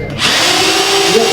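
An electric drill spins up and runs steadily with a loud, close, continuous whine.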